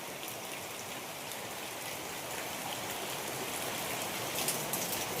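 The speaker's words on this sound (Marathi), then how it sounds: "भरपूर पाऊस" Steady, dense rain hisses down continuously, a thick even wash of drops spattering on surfaces with no voices.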